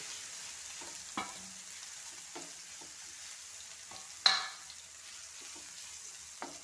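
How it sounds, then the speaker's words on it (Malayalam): Soya chunks coated in spice paste fry in hot oil for a raw banana soya curry, a continuous soft sizzle punctuated by several scraping stirs and one sharp metallic clank midway. "ആ സോയ ഇതിലേക്ക് ഇട്ട് വറുത്തെടുക്കും"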